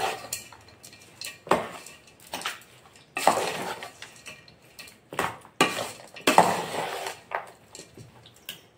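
Raw mango pachadi being mixed by hand or spoon in a vessel after tempering, giving intermittent clinks and scraping bursts with quiet gaps, fairly close and without talk.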